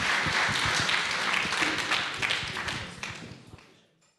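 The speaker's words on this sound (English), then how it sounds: "So big applause for Lukas." Applause from a conference audience at a Flutter meetup welcoming a speaker, starting full and dense, then thinning out and fading away over about four seconds.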